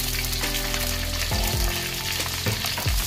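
Fenugreek seeds, dried chilies, curry leaves, shallots and garlic fry in hot oil for a banana curry base, giving a steady close sizzle with a few soft stirring scrapes.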